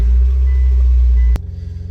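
A Mitsubishi Evo X engine running at idle, a loud, steady low rumble close by that drops abruptly to a lighter, pulsing idle near the end.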